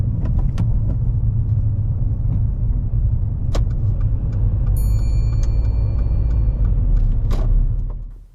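Steady low car engine and road rumble heard from inside a vehicle during a driving lesson approaching a left turn at traffic lights, continuous and loud with a few light clicks and a brief tone.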